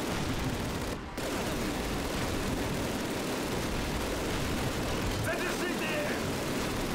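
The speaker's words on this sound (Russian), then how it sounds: "Так, пулемет автоматически будет стрелять." Machine gun fire in the 2003 shooter Call of Duty during a tank battle in a city, a continuous loud burst of automatic firing with a brief gap near the start.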